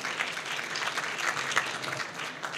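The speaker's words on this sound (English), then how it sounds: "Please have a big round of applause." Audience applause at a professional convention gathering, a full, sustained round of many people clapping at moderate loudness with slight swells, no talking over it.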